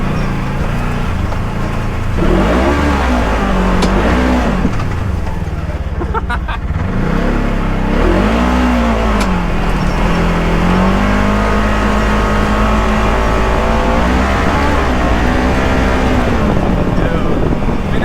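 An engine revs hard up toward 9,000 RPM, its pitch repeatedly swelling and falling in long sweeps over a steady rumble, loud and close with wind buffeting the microphone.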